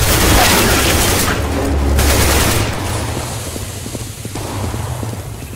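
A flashbang grenade in CS:GO goes off with a loud, harsh burst that rings for a couple of seconds, then fades into quieter rattling gunfire and game noise, with no voices.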